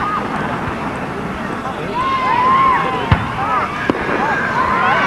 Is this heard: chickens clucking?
no